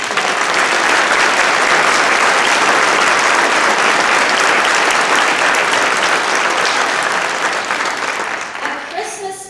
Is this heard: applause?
yes